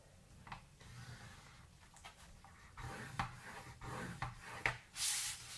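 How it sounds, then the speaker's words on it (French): A bone folder pressed along paper folds while making album pocket pages, giving soft, close rubbing and scraping strokes in short irregular passes, quiet and with no voices. "On marque bien les plis."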